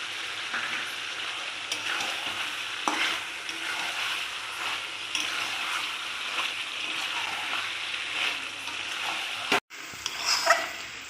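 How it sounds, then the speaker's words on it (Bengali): Chicken pieces cooked down with chicken masala and sliced tomato in oil sizzle and fry steadily while being stirred now and then, a continuous close hiss with a brief cut of silence near the end. "দেখো মাংসটা আমার কষা হয়ে গেছে তেল ছেড়ে দিয়েছে"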